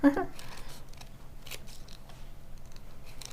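Kai scissors snip through crepe paper in a few short, quiet cuts, with a crisp bite at the start and fainter snips later over low room noise.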